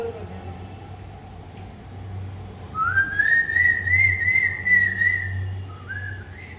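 A handheld whistle is blown indoors, giving one sustained, wavering, slightly breathy tone for about three seconds, then a short second toot, over a low steady background hum.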